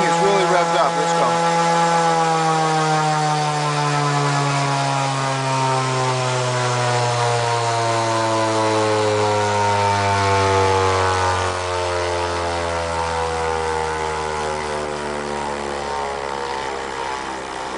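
Rotorgenie2 brushless DC pulse motor generator spinning up hard on a capacitor charge, a loud steady whine of stacked harmonic tones that slowly falls in pitch over about eighteen seconds, with no talk.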